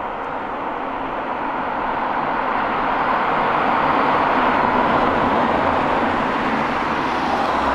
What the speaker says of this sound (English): This time, the LEAF is closely followed by a conventional car.